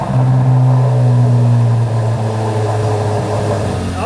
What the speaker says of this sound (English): I think I should be able to start the car up